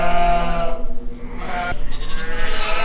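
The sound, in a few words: sheep bleating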